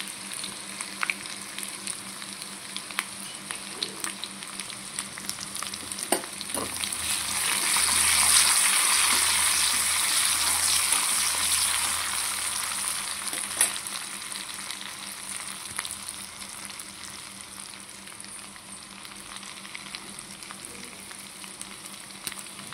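Garlic cloves and cumin seeds sizzle in hot oil, a steady crackling hiss that swells to its loudest in the middle as the ingredients hit the pan, then settles into a gentler fry with no talking.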